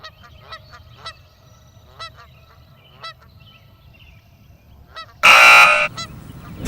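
Several geese honk in short bursts from a moderate distance, calls spaced irregularly, then a loud burst of harsh noise near the end.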